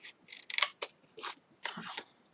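Scissors snip through paper for a small rectangular paper box, a quick series of crisp, close cuts in short bursts with brief pauses between.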